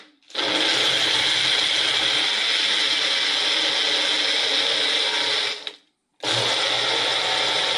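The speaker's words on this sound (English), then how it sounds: "Let's bring in our blender and let's see what we got." A blender whirs loudly and steadily for about five seconds, stops briefly, then starts up again at full speed.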